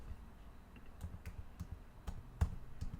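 Someone types on a computer keyboard, sparse close key taps, roughly a dozen in three seconds in an uneven rhythm, faint and alone over quiet room hiss.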